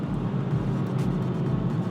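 A tuned BMW 340i with a B58 engine, upgraded intake and exhaust, drives along with a low, pulsing engine drone and road rumble at moderate level, swelling in soft regular surges.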